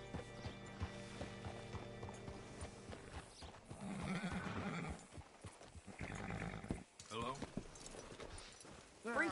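Horse hooves clip-clop in Red Dead Redemption 2, steady and fairly close amid creaking tack, a whinny and game sounds, with someone talking over them.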